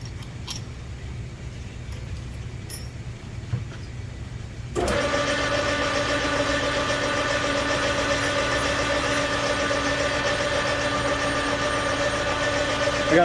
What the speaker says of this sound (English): we're going to put a 1-inch hole in this big pulley here